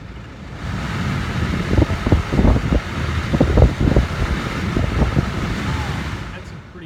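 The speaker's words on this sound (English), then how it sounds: "So that's a worn out blower motor right there" A worn-out heater blower motor from a 2011 Ford Ranger runs with a steady, rough whir, while a voice talks intermittently over it.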